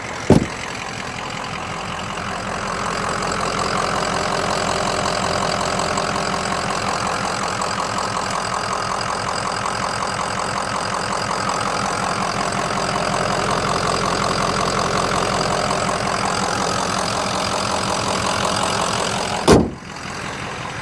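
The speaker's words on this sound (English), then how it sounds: "let me let you hear it idle" A 2005 Ford Excursion Eddie Bauer with a 6.0L Powerstroke diesel idles with a steady, even clatter close by, with a sharp knock near the start and another near the end.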